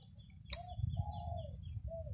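Spotted doves coo outdoors, soft mellow notes drawn out in a few phrases over a low rumbling background, with a sharp brief click just before the calls begin.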